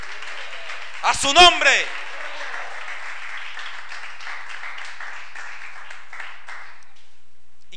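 A church congregation applauds steadily for several seconds, the clapping loud and filling the room, under a brief spoken phrase from the preacher.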